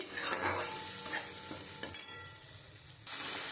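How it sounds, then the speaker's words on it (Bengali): Spices with asafoetida being stir-fried in a pan, a close sizzle with repeated scraping stirs and a few light utensil clinks, fading briefly then rising again at the end, with no talk. "আমি তো মশলা দিয়ে কষিয়েছি"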